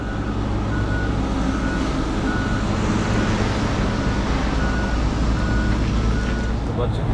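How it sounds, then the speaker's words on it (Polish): Heavy scrap trucks drive out of a Miami, Florida scrapyard, engines rumbling steadily with intermittent reversing beeps repeating in the background, continuous and fairly loud traffic-like noise throughout. "wyjeżdżają auta ze złomem"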